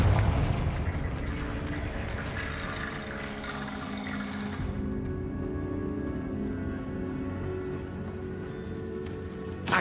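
Confringo blasting spell exploding in the Hogwarts Legacy video game: a broad, roaring blast that rumbles on and gradually thins out, loud and close.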